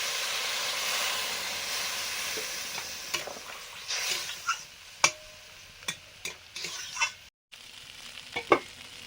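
Mustard paste and water go into a sizzling fish curry in a frying pan, with a steady hiss broken by several sharp stirring scrapes and clinks near the end.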